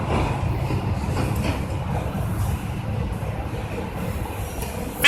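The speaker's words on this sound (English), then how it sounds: "It's a stack train intermodal with a DPU on the back of it." A Union Pacific intermodal stack train with a rear distributed power unit rolls steadily past a road crossing, a loud, continuous rumble of wheels and railcars close by throughout.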